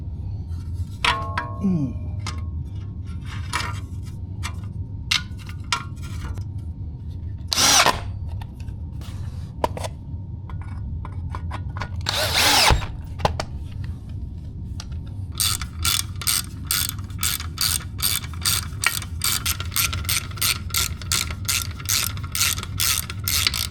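Hand driver with a T30 Torx bit refitting the skid plate screws on a BMW GS 1300 motorcycle, with ratcheting clicks and scattered metallic taps, then a fast, steady run of ratchet clicks through the final stretch, close and fairly loud.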